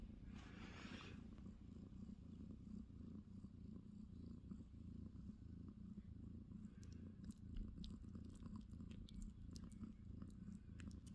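Young kittens with eyes just opening purr in a soft, continuous low rumble, quiet and close, with a few faint rustles and clicks scattered through.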